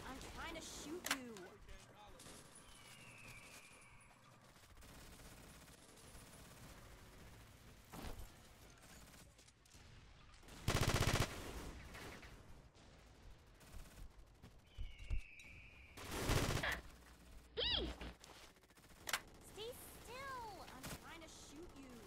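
Video game gunfire rattles in bursts of shots amid a noisy, shifting soundscape, with one loud sustained blast partway through and scattered sharp reports later.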